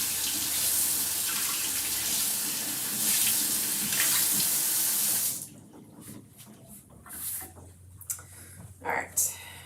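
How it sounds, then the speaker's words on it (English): A kitchen faucet runs steadily while a spice jar is rinsed under it, a loud continuous splashing rush that cuts off abruptly midway, leaving quieter handling sounds and faint noises afterward. "I'm gonna go quickly put this under the faucet real quick"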